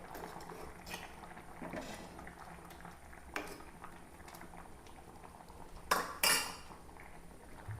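Angamaly-style fish curry boiling in a pot, heard as a soft, steady bubbling, then a ladle clatters and scrapes against the pot near the end as the curry is stirred.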